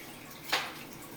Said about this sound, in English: What I'm going to do now is add some water because the bollitos have to be